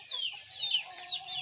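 A family's backyard chickens cluck in short, faint calls from a little distance, a few brief squawky notes over quiet background.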